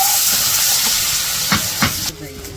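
Onions and green chillies sizzle in hot oil in a wok while fish curry is being cooked, a steady hissing fry with a couple of brief stirring scrapes before the sizzle drops quieter near the end.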